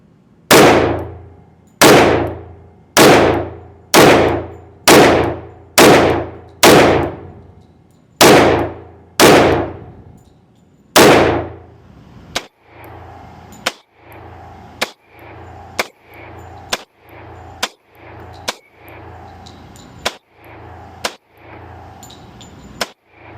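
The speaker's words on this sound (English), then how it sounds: "I still want to run 10 rounds with the new spring system to check function with it" FN 510 pistol firing unsuppressed Underwood 200 grain full power rounds, about ten sharp loud shots at a steady pace with ringing decay, followed by a run of lighter metallic clinks and taps.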